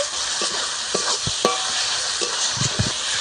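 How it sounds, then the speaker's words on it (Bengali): Spice masala sizzles steadily in hot oil for a chicken curry while a spoon stirs and scrapes through it with soft intermittent knocks, close and continuous with no talk. "যতক্ষণ না তেল ছাড়ে ততক্ষণ আমি মশলা কষাতে থাকবো"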